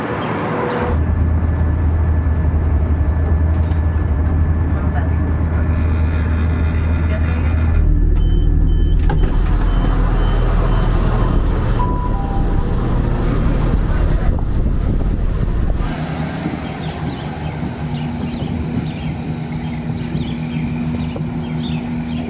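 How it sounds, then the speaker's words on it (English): Train ride of one stop along the Fife coast in Scotland to Burntisland, with a steady loud low rumble and wind-like roar throughout, shifting slightly quieter near the end as the carriage slows. "That was a very quick 5-minute train journey."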